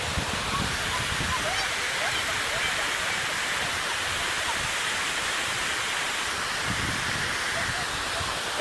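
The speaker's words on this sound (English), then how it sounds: "Spray, spray, spray, too much water." Victoria Falls in June, heavy with water and spray, roars as a constant, dense wash of noise that stays loud and unbroken throughout.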